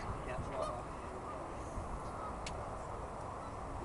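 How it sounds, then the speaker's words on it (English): Geese honk at a country park, a mix of calls over a steady outdoor rumble, moderately close and loud amid the flock. "Look at all them birds."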